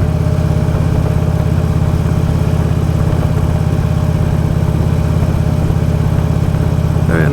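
A motorcycle engine runs during a ride with a loud, steady, low drone that holds without break, under a layer of rushing wind noise.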